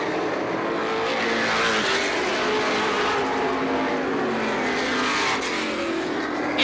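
Race cars roar out of turn four at Star Speedway, a continuous loud, dense engine drone with revving and a hint of tire noise filling the whole stretch.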